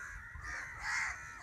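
Crows caw outdoors in a couple of harsh, drawn-out calls at moderate distance, with a faint low rumble underneath and no talking.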